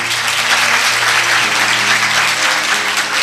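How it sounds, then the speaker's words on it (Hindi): A congregation claps together during a church sermon, a loud, continuous wash of applause that holds steady throughout with faint tones beneath it. "ये दुआ का टाइम है, ताली बजाने का नहीं है।"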